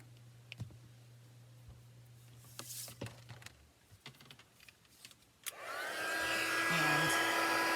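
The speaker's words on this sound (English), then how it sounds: "And I have my heat tool here." A few quiet clicks and small handling taps come first, then an embossing heat tool kicks on partway through and blows a steady, fairly loud whooshing hum over white embossing powder on paper.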